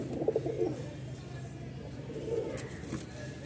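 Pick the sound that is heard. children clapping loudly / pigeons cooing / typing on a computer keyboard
pigeons cooing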